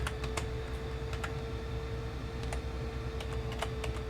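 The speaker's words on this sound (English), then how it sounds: "And actually, you know what we'll do is we'll go and just type in Mauricia" Fingers tap out a short entry on a computer keyboard, clustered clicks in quick bursts with pauses between, close by over a faint steady hum.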